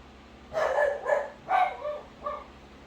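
Several dogs barking indoors in about five close, loud bursts with short gaps between them, heard alone without talk.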